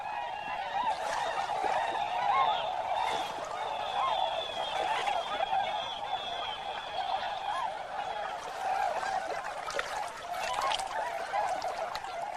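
A large flock of migrating tundra birds, thousands strong, stopping over on the Mississippi on the way to Chesapeake Bay, calling in a dense, continuous chorus of overlapping honks and chatter.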